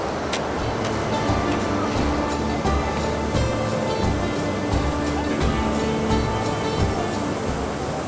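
The Mandakini river near Gaurikund in the Himalayas rushes below in a steady, loud roar of churning water, broadband and unbroken, with a few faint ticking sounds over it.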